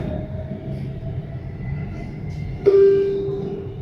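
A Bangkok MRT metro train runs with a steady close rumble, then a sudden louder tonal whine and hum as it brakes or changes speed toward the end.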